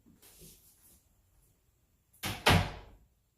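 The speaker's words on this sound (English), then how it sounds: "I'm going to close it." A door swings shut with a firm thud after a few faint shuffling sounds, heard close in a quiet indoor room during puppy training.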